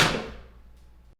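A bathroom door gives a single solid thunk as it shuts, close and fairly loud, then rings out briefly before cutting off, with no voices.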